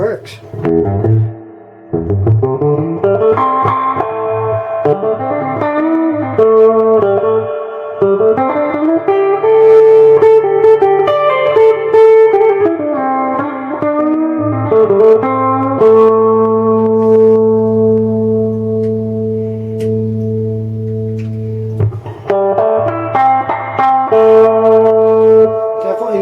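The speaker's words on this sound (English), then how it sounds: "Okay, let's try the reverb." Notes ring through the reverb of a restored Ampeg V4 amplifier, with sustained, echoing tones that glide and swell, pause briefly, then return loud and smeared with a slightly distorted tail.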